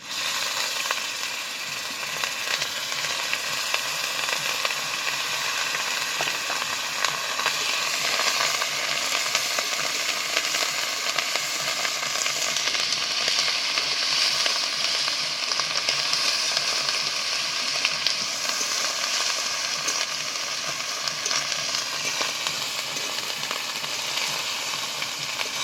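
Onion paste fries in hot oil for a fish curry, a dense, loud, unbroken hiss of sizzling with faint stirring textures underneath, close and steady throughout.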